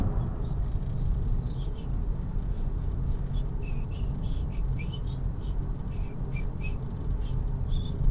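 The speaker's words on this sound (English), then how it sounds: "You're whistling on my video" Someone whistles a wandering tune in short high notes over a steady low rumble of background traffic noise at Disney Springs.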